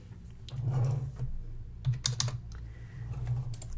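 Quiet, irregular typing on a computer keyboard while bookkeeping transactions are entered, with close-up clusters of key clicks and brief pauses over a low hum.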